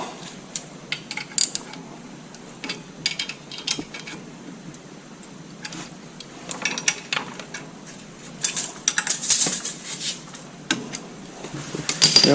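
Nuts being tightened by hand on a tractor hitch lift arm, giving irregular metallic clinks, ratchety clicks and taps that come in small bursts, close and fairly loud, with no talking.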